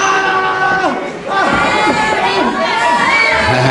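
A ringside crowd at a 1973 professional wrestling bout in Solihull cheers and shouts continuously, with children's high yells and whistles rising and falling over a dense, lively roar.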